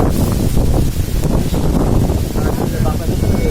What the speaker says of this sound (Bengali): তাহলে বাতাস হচ্ছে, বৃষ্টি হবে না রে